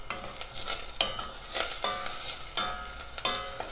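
Onion frying in oil for an olive sauce, a loud close sizzle with rhythmic stirring strokes scraping through it every half second or so, no speech.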